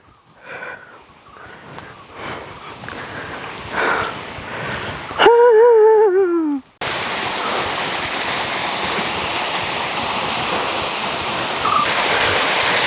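Rushing water from a waterfall at a private falls near the Mekkarai resort in Courtallam: a steady, loud roar that begins after a few seconds, following footsteps, rustling and a brief whining tone.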